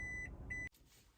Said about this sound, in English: make that annoying beep every time you back up